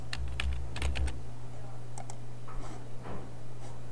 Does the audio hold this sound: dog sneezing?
no